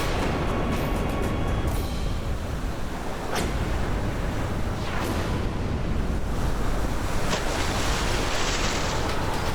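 Loud, steady roar of ocean surf with broad wind-like rush and occasional swelling crashes, continuous and close throughout with no voices.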